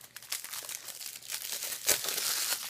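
Plastic wrap crinkling as it is peeled off a Blu-ray/DVD combo case, a steady close rustle that swells and stays busy toward the end.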